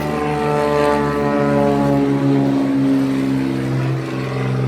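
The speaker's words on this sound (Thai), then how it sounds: "เครื่องบิน" A propeller airplane drones loudly and steadily nearby, close to a small airfield, its engine hum holding strong throughout with a slight shift in pitch as it passes.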